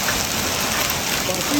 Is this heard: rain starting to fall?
yes